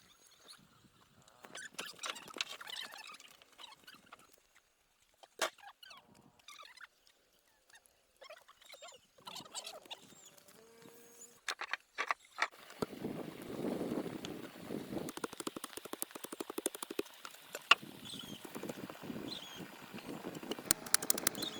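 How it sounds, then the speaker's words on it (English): Sparse, intermittent bird calls chirp at a distance amid quiet surroundings, later joined by wind buffeting the microphone. "Bird calls echo softly around the site."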